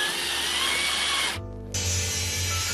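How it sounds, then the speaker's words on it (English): Large drill bit chamfering headbolt holes in a 7M engine cylinder block, a harsh whirring grind that stops briefly, then resumes with a pulsing lower drone, loud and close. "I've got a freaking huge drill bit on my cylinder block"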